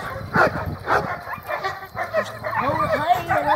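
A female dog gives a string of short barks, yips and whimpers close by while people talk over and around the sounds.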